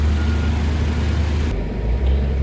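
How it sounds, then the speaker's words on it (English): A 2018 Toyota Tacoma's 2.7-litre engine idles steadily after a front-end collision, a close, even low hum with a brief dip in the middle and no voices over it. "Here we have the engine running,"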